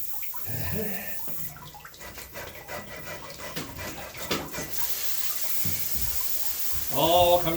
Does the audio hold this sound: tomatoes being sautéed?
no